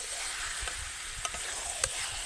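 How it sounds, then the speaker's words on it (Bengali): Fried potatoes and snakehead fish pieces are sautéed over low heat in a pan, a steady mid-level sizzle with a few soft stirring scrapes and clinks, close by and without speech. "হালকা আঁচে আলু মাছ ভালোভাবে একটু সময় ধরে কষাতে থাকবো"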